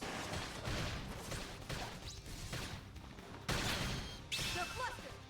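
Dense battle effects from the video game Xenoblade Chronicles X, a busy wash of clashing noise with sharp bursts and a loud impact near the middle, plus faint voices mixed in.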